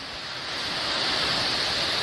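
Floodwater around a flooded house in North Queensland, a steady broad rushing wash that swells slightly louder, heard alone with no talk.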